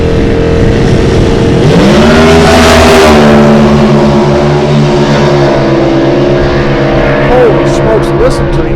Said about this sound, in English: listen to the RPMs out of these small blocks